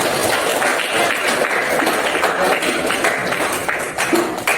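Classroom applause for group 3 after an Indonesian-language presentation on the steps for making simple fried tempeh: dense, sustained clapping from many students, steady and fairly loud throughout.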